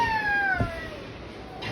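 A two-year-old child imitates a cat, one drawn-out sliding meow heard close, with a brief soft noise after it.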